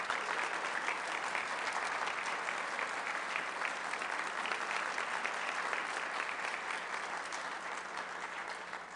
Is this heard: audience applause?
yes